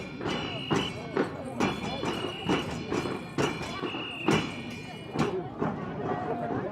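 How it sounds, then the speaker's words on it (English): Parade horses with riders walk past in a steady series of hoof thuds and clip-clops at close to middle distance, with crowd noise and some talk mixed underneath. "Bringing up the rear of the parade, the stars of the day, the horses and their riders."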